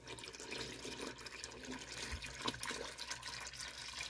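Juice or water pours into blueberry pie filling being prepared for canning, giving a faint, continuous trickle of liquid with a few small splashes.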